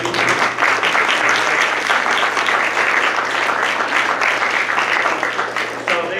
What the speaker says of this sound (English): if you guys can give your facilitators a round of applause, please.